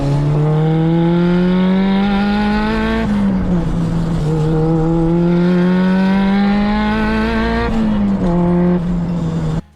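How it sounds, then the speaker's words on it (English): A turbocharged four-cylinder car engine revving loud and close, climbing through long pulls with brief dips between, the tone rising steadily each time. "And here is a 4-cylinder with a turbo."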